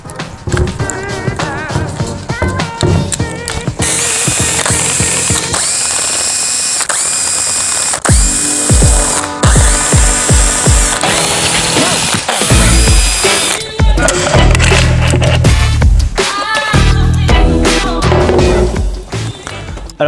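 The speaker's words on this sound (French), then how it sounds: "Vous prenez un cliquet, dans ce cas un embout à laine de 5 et c'est parti." A ratchet fitted with a 5 mm hex bit unscrews the clutch cover bolts on a Minarelli AM6 moped engine. Loud, close clicking and mechanical rattling go on continuously, with metallic ringing and clanks.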